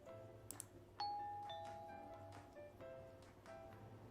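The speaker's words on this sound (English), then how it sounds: "Just then, the doorbell rings." A doorbell in the video game You and Me and Her rings once with a clear electronic chime that fades out, followed by faint, quiet background sounds.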